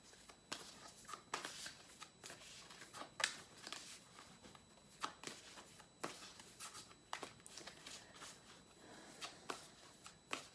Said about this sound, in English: You can skip the shuffling if this gets too long.